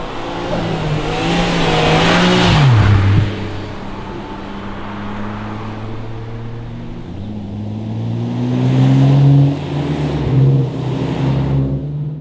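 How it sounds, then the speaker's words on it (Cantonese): A car engine revs up loudly, its pitch rising and falling through a couple of throttle blips, with a rough, raspy four-cylinder tone close by. "但係呢三架係真係四氣缸嗰啲聲係真係爛爛地啊"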